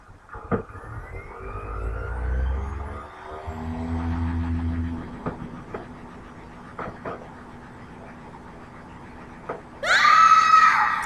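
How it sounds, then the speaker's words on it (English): A character in the video game Xenogears lets out a sharp, high scream near the end, loud and sudden after quieter game sounds, rumbles and scattered clicks. "that's a cowardly scream"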